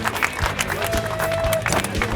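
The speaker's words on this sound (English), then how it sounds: "ladies and gentlemen, round of applause." Crowd applause and cheering at the SEMA 2017 show in Las Vegas, a steady patter of clapping from a sizable audience with scattered whoops, fairly loud and continuous throughout.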